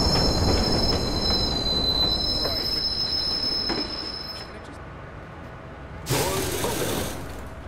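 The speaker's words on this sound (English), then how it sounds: "Northbound train arriving shortly." A video game El train arriving at a station rumbles steadily with high metallic wheel squeal, the screech fading out before a brief loud burst of hiss near the end.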